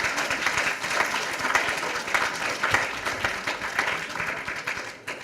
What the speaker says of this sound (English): So if you wouldn't mind giving them a round of applause for their support.